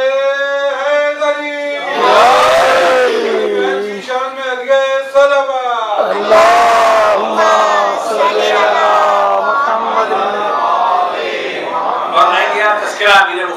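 A large crowd at a 1 Rabi ul Awal Islamic religious gathering roars the takbir slogan 'Allahu Akbar' in loud, swelling call-and-response waves, with a lead voice calling out between the collective shouts.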